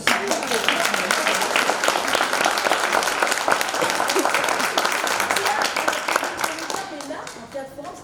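Sustained applause fills a theatre-forum room as the audience claps for the actors, a thick wash of many hands at a steady loud level that only tapers slightly at the very end.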